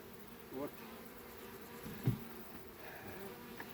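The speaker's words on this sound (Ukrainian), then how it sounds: "бджоли не люблять різких рухів і голосний звуки" Honey bees hum and buzz in a soft, steady drone at an apiary, fairly faint, with a few brief louder bumps of nearby movement.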